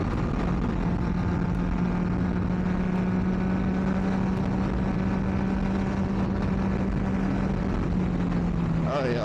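A Yamaha MT-09 motorcycle engine drones steadily while riding in B mode, a constant loud hum with rushing wind noise throughout and a slight pitch change near the end.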